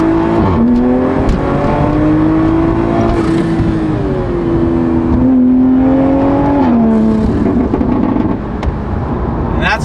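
A tuned Toyota Supra accelerates hard through the gears, its engine revving loud and close with rising pitch sweeps and brief dips at each shift, with occasional excited voices over it.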